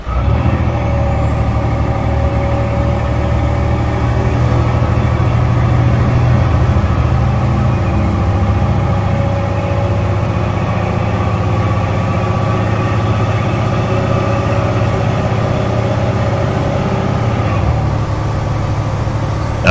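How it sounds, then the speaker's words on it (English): Peterbilt 567 truck engine in a truck simulator, a steady loud diesel drone with a low rumble and faint whine holding evenly for about twenty seconds, with no talk over it. "Now this is a different engine compared to what I'm used to"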